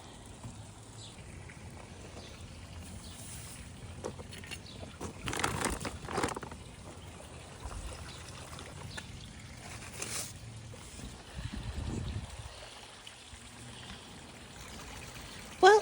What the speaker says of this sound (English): Well, it is still raining.